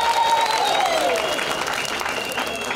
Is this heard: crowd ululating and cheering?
yes